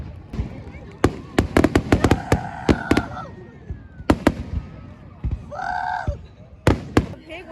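Fourth of July fireworks pop and bang in a rapid irregular string of sharp nearby bursts, with a few whistling tones between them and people talking in between.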